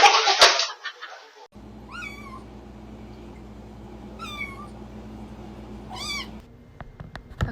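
A cat gives three separate drawn-out meows, each rising then falling, spaced a couple of seconds apart over a low steady hum, after a burst of rushing noise at the start.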